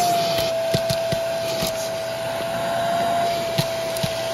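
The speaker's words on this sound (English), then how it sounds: "I'm going to pop both of these up and vacuum them out with the HART" HART vacuum cleaner running steadily while cleaning under car seats, a constant whining motor hum with occasional small clicks and knocks as the nozzle moves around, close and fairly loud.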